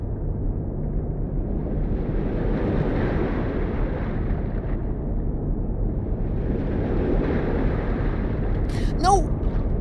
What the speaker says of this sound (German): Das Wasser kommt, das Rohr sollte gleich rauskommen.